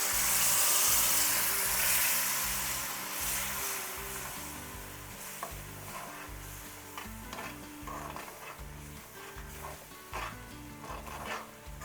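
Water poured into frying spice paste for egg pulusu in a pan, a steady close sizzle and bubbling with occasional stirring scrapes, loudest at the start and settling slightly over time.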